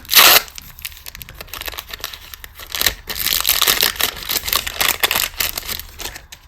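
Paper tears and crinkles in several loud, close bursts, with rustling in between as a paper surprise packet is ripped open.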